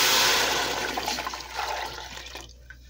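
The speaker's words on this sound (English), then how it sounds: "So we're going to go ahead and we're going to put our broth in." Homemade chicken broth poured into a pot of pastina soup: a loud, close, rushing pour that slowly thins into a softer splashing trickle and stops abruptly near the end, with no talking.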